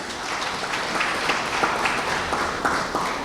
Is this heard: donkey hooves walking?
no